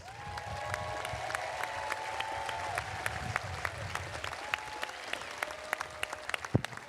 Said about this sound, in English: Congratulations to all our outstanding honors students for their excellent academic performance. Please, a round of applause.